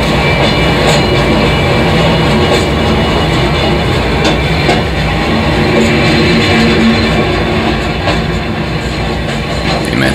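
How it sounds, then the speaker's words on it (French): Train departing, a loud continuous rumble of rolling wagons with faint rhythmic clatter and a steady low drone filling the whole stretch, with no voices. "Le train s'en va."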